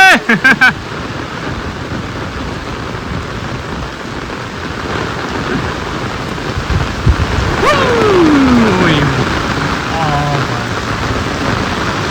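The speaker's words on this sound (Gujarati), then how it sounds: "જબરજસ્ત જોરદાર વરસાદ ભાઈ, ખતરનાક." Heavy rain pours steadily in Patan, Gujarat during a storm, a dense continuous hiss, with an opening burst of sharp impacts and a rumble of thunder building midway.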